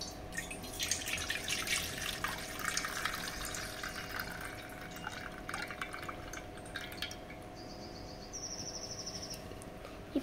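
Water is poured away from a container, a soft continuous trickle and dripping over faint background noise.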